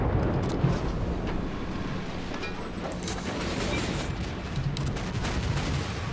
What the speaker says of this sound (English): Getting shots shot at us.